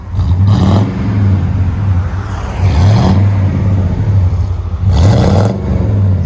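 Chevy Silverado 1500 with a 5.7L V8 and an aftermarket Magnaflow exhaust, heard from outside: a loud, deep, steady burbling rumble with a lumpy cadence and periodic swells in volume, close up with no talking.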